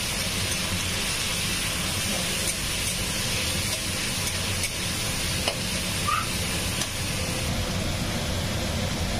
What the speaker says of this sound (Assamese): অকণমান ভাজি ল'ম মই সবজিখিনি।